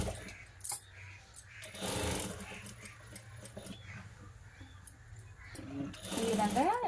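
A sewing machine stitches lining onto a blouse piece for a back-neck design, running in short bursts under a voice, with a louder whir near the start and again toward the end.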